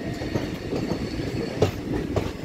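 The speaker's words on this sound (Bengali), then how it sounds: "যেহেতু কার্ভে রয়েছে, ট্রেনটা খুব স্লো চলছে" A passenger train on a hill line in Meghalaya creeps slowly around a curve, with a steady low rumble of wheels and carriages and faint clicks of rail joints, heard close from on board.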